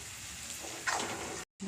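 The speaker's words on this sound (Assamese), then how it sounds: "ভালকৈ লৰাই ভাজি ল'লোঁ।" Chicken frying in a pan with cumin, garam masala, red chilli and chicken masala, stirred as it cooks, giving a steady close sizzle with a brief sharper hiss and a short gap near the end.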